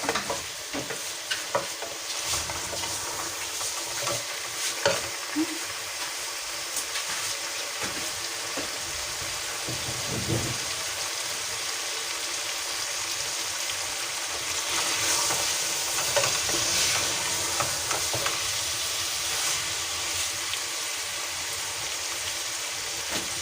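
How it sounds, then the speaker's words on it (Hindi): Potatoes are stir-fried in a pan, with a soft continuous sizzle broken by scraping spatula strokes and occasional clinks, close by, with a brief watery trickle in the background and no talking. "इसको तो मैं अच्छी तरह से 1-2 मिनट अच्छी तरह से भून लूँगी।"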